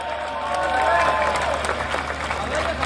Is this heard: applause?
yes